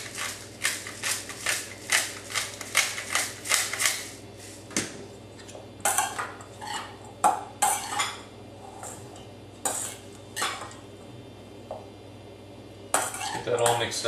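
A spoon stirs shredded non-dairy cheese and fresh ground pepper into a stuffed pepper filling, producing a steady run of close clinks and scrapes against the bowl with short pauses between strokes.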